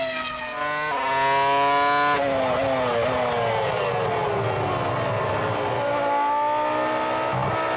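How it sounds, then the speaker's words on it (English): Juan Montoya's Formula 1 car at the 2005 French Grand Prix, its engine misfiring: a loud, close, stuttering engine note with harmonics that rise and then sink as it loses speed, rough and uneven throughout. "it'd be strange if he makes it to the end of the Grand Prix with that kind of misfire"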